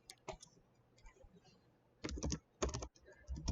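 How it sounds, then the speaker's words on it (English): Quiet, quick taps from a computer keyboard come in scattered keystrokes, then in denser bursts of clicking as someone types steadily, with no voices heard. "that's literally what I was just typing"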